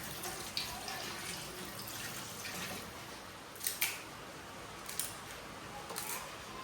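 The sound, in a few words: water being poured into a pot of mutton curry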